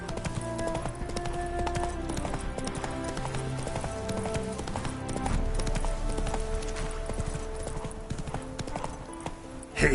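Hooves of the horse Roach clip-clop in a steady, close rhythm in a video game, over a bed of game music.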